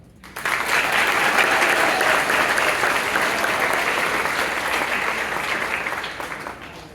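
Enthusiastic audience applause fills a school spring concert hall, starting suddenly and staying loud and steady for several seconds before gradually tapering off.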